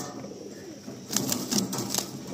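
A Madrasi pigeon is released and flaps its wings, giving a short burst of soft, close wingbeats after a quiet start, with a faint coo-like murmur underneath.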